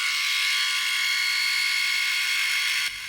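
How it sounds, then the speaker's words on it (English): A Silvercrest electric head trimmer runs steadily with a high-pitched buzz while cutting hair, loud and close. It cuts off just before the end. "And now only with a head trimmer, just to make straight lines on my hair."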